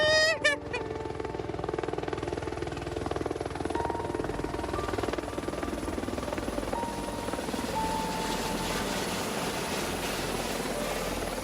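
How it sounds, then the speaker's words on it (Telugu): A helicopter in Dubai gives a loud, steady rotor drone with a rapid chopping flutter that holds continuously throughout, alone with no talking. "హెలికాప్టర్"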